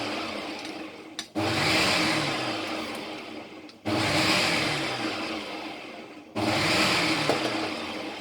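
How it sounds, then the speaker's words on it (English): A kitchen blender whirs loudly in three sustained bursts, each starting abruptly and running a couple of seconds, mixing vanilla sugar for a chocolate cake batter, with no talking. "that is 8 grams vanilla sugar, and I will blend that"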